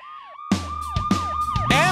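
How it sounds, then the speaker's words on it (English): A cartoon ambulance siren wails nearby in repeated rising and falling sweeps, loud and close, with a heavy engine rumble underneath. "Ambulance!"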